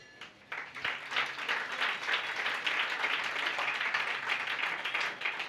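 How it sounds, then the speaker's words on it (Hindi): An audience at a Jain religious discourse breaks into applause, a dense burst of clapping that rises quickly and holds steady for several seconds. "ये ताली आपने किसके लिए बजाई है।"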